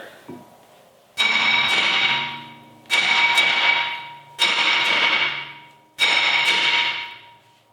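A hammer strikes a stuck brake rotor to free it from the hub, with four loud, ringing metallic blows spaced about two seconds apart, each ringing out and decaying before the next.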